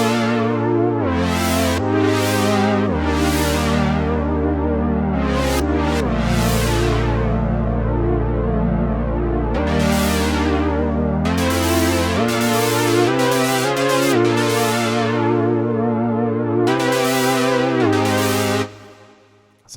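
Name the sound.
chord preset on Synapse Audio Legend HZ synthesizer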